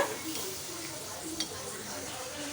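Steady sizzling of vegetables frying with wheat rava in a pan over a medium flame, with faint scraping from stirring throughout.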